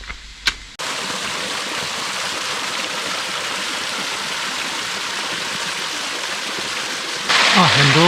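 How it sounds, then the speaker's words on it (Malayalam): Steady, close rush of cool water flowing down a channel into a lower tank at a heritage farm stay in Fujairah, continuous and loud, with a brief knock at the start and a louder splashing surge near the end. "ഇവിടെ ഒരു വെള്ളത്തിൻ്റെ സൗണ്ട് കേൾക്കുന്നുണ്ട്."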